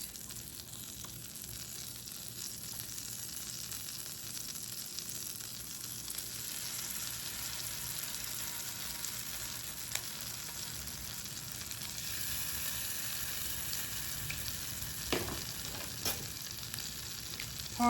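Garlic paste sizzles steadily alongside lamb chops frying in a pan, a continuous close hiss with a few faint scrapes near the end.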